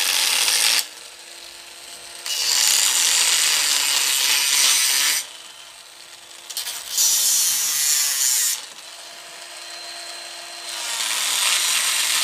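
A hand tool working bonsai wood, likely a new German-made tool used to shape deadwood, in repeated scraping, rasping strokes of about two seconds each, separated by short pauses, close and loud with no talking.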